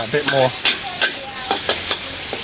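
Hand-minced pork frying in lard at a Bangkok street food stall, a loud close sizzle punctuated by rhythmic metal spatula strikes against the wok, with faint background chatter.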